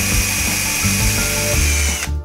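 Power drill boring a small 4 mm hole in wood for a Shaker table drawer runner, bit wrapped with tape as a depth stop; loud steady whirring motor with grinding bit contact, stopping abruptly near the end.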